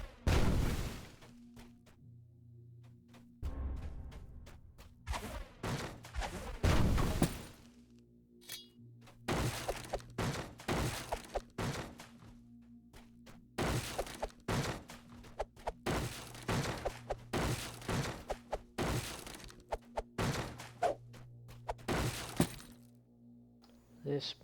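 Exploding barrels shattered by a wand in the Dungeons & Danger Online game pop in a string of sharp cracks and thuds, spaced irregularly over a steady low game hum, with occasional quiet gaps between bursts.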